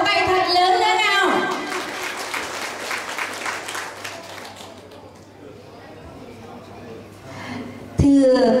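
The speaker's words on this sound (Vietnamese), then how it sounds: "Xin quý vị hãy dành cho họ một tràng vỗ tay thật lớn lên nào." Applause from an audience after a dance performance at a party: a dense wash of clapping starts as an announcer's voice ends, holds steadily for several seconds, then fades before a loud sound cuts in at the end.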